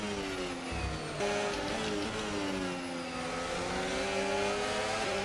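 Formula 1 car engine in the F1 25 racing game at Monza, a steady high-pitched whine with layered harmonics holding near full power, loud and close, with no talk over it.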